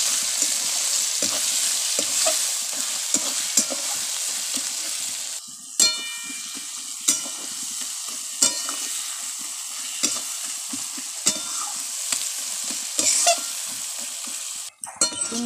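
Chicken curry with potato cooking in a pan as spices and tomato are stirred and fried, a steady sizzle running throughout with regular scraping strokes of the spoon and a few light clinks, close and fairly loud, no talking.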